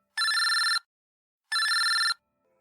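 A cell phone rings in two identical electronic trilling bursts, each about half a second long and separated by a pause, clear and close with nothing else heard.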